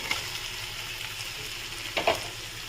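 Paneer cubes dropped into hot oil in a pan for paneer chilli, giving a steady close sizzle and crackle throughout, with a brief louder splattering burst near the end.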